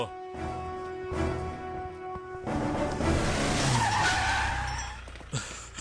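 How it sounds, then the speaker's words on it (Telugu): A car in a Telugu film scene, Veerudu, brakes hard to a sudden stop, with a loud tire skid and squeal rising over engine noise for a few seconds before settling. "ఏంటి సార్ సడన్ గా బండి ఇక్కడ ఆపేశారు?"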